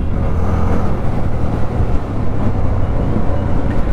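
A 2024 Jawa 42 motorcycle engine running steadily while riding, a continuous low rumble with road and wind noise, close and fairly loud throughout with no talking.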